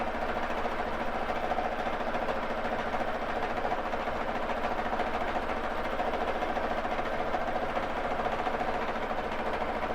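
A Baby Lock Jazz II sewing machine runs fast and steady while free motion quilting on a frame, a dense close mechanical hum and rapid needle rattle holding constant throughout with no pauses or voices.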